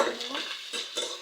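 Pasta frying in a pan, stirred with a utensil that clinks and scrapes against the pan in a few quick strokes over a light sizzle.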